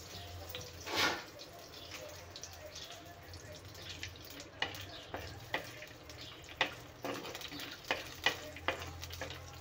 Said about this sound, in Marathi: तर मी मातीच्या भांड्यामध्ये काजू घातलेले आहेत। आता आपण तेल घालून त्याला थोडंसं भाजून घेऊया।